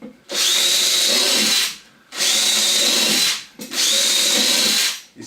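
A power drill whines in three bursts of about two seconds each, boring into wood, with short pauses between.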